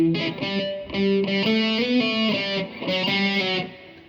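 Distorted electric guitar plays the opening four bars of part C of a piece, a run of chugging, sustained notes and chords alone with no voices, loud and close.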